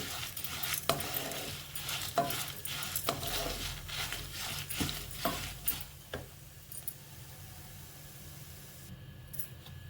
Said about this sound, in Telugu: అందులోనే మళ్ళీ కరివేపాకు కూడా వేగించుకుందాం